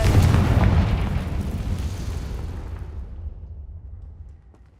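A Confringo fire-blast spell explodes in Hogwarts Legacy, a heavy, close boom that rumbles and slowly fades over several seconds with no talking.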